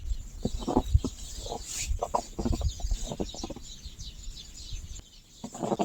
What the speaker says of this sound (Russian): А слышно вам, как воробьи щебечут?